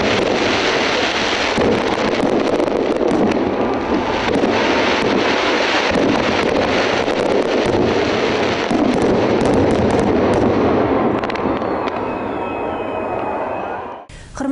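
A continuous barrage of crackling, booming holiday fireworks salute fills the air for a long stretch, dense and loud, ending abruptly.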